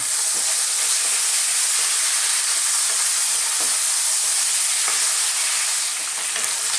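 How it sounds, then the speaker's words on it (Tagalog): Sipo eggs fry in a pan with a loud, close, continuous sizzle and hiss, steady throughout with faint stirring taps and no voices. "So, mangyari lang po, piprituhin natin siya."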